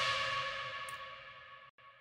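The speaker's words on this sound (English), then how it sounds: "Next, I'll apply this reverb." A single bright FM synth bass stab ringing out with a long reverberant tail, low and high cut applied, that slowly fades, cut off abruptly near the end.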